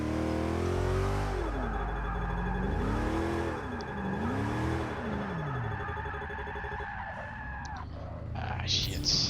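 GMC Vandura van drifting in Forza 6, engine revving up and down in sweeping, wavering pitches with steady tire and engine drone, loud and close, fading at the end with a faint voice.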